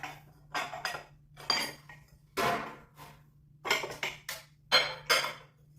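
A kawali frying pan being handled among other cookware, with bursts of metallic clattering, scraping and clinks in uneven clusters, close and fairly loud over a faint low hum.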